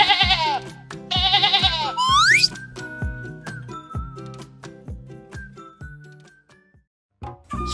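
Cartoon sheep bleating while being fed bananas on a farm, a pair of quivering, wavering bleats up front followed by a rising whistle-like tone over a bouncy plucked musical background.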